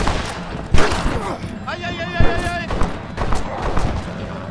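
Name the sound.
shotgun firing in the video game Red Dead Redemption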